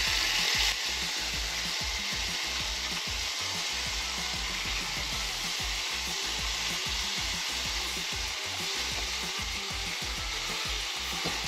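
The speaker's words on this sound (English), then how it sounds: "Gotta flip these. All right, perfect. Great sear. Very good sear on these." Thin trout fillets sear in tallow in a pan, a steady bright sizzle with repeated low scraping and rubbing sounds running throughout.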